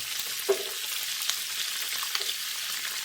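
Sausage stir-frying in a pan with ketchup, garlic, paprika and king oyster mushrooms: a steady soft sizzle with a few light stirring knocks, no talking.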